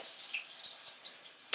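Water hits hot oil in a cooking pan and sputters into a soft, fizzing sizzle, with scattered small crackles and one sharper pop at the end, fairly faint and close.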